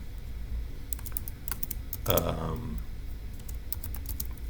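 Light, scattered computer-keyboard keystrokes tap out in irregular bursts over a low background hum, with a brief louder rustle midway.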